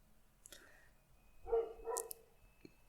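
A small dog gives two short, yappy barks, faint and somewhat distant, with a light click just before and quiet room tone around them.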